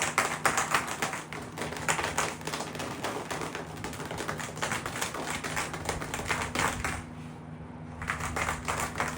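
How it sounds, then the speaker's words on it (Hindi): Rattling of speed skating bearings jostled in a shaken bottle of cleaning solution, a dense, continuous clatter of close clicks that runs throughout, easing briefly near the end before picking up again. "जैसे कि आवाज़ आप सुन पा रहे हैं, ऐसी आवाज़ आपकी बेरिंग में से आनी चाहिए"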